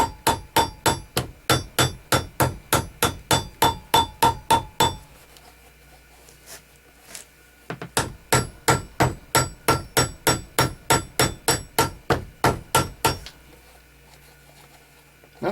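A hammer pounds rivets into a domed shape with fast, steady metallic blows. There are two long runs of evenly spaced, loud, close strikes, with a quieter pause between them.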